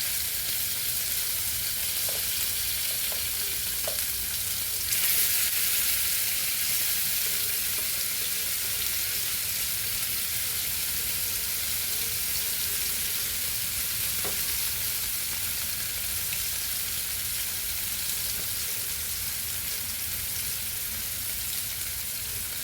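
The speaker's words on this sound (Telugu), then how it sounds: "చూడండి, వేగుతున్నాయి బాగా." Marinated pomfret fish pieces fry in a pan, producing a continuous, even hiss of sizzling oil close by, with only a couple of faint clicks and no voices.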